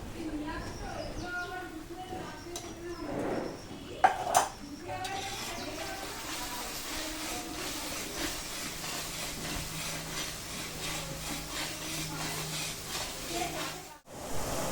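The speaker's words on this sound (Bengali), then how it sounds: "সর্ষেটা ভালোভাবে কষিয়ে নেব দিয়ে দিচ্ছি পোস্ত পেস্ট" A spatula stirs mustard and poppy seed paste frying in a pan for a doi katla fish curry, giving a steady close scraping and soft sizzle, with a few sharper clinks near the start.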